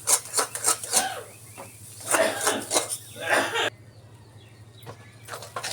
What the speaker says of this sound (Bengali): একটু ভালো করে নেড়ে চেড়ে আমি ভালো করে দোনাটা তৈরি করে নিচ্ছি